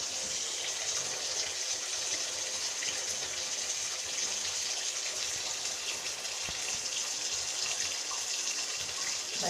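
Water running steadily from a tap into a sink, a constant close hiss and splash with no pauses for the full length.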